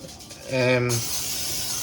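Fry Light cooking spray is misted into a preheating frying pan in a kitchen: a short hiss that then settles into a steady, softer airy spray lasting about a second, close to the microphone.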